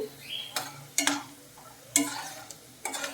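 Peanuts frying in oil for tamarind pulihora, a soft low sizzle under sharp scraping stirs of a spoon against the pan, coming in irregular strokes close by.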